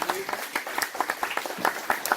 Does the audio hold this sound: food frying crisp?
no